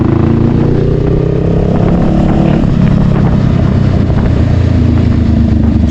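Several motorcycles pass close by at night on a twisty road, a loud steady engine roar with rising and falling revs that stays dense throughout.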